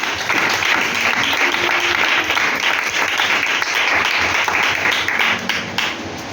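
A church congregation breaks into sustained applause, a dense, loud, even wash of many hands clapping together that holds steady before easing slightly at the end.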